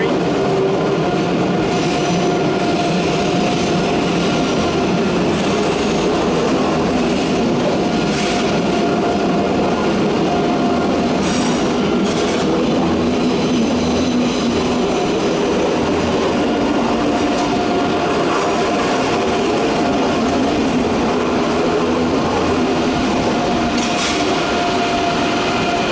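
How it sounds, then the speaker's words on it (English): An ICE train in blue-striped Europe livery rolls through Köln Hauptbahnhof with a steady, loud rumble of wheels and carriages, faint clicks and squeaks over the continuous roar. "ICE service, and it's got the blue stripe, special Europe livery."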